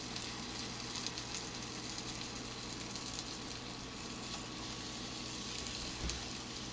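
Bananas cook in a pan for bananas foster, a faint, steady sizzle and fry hiss with a few soft bumps and no voices.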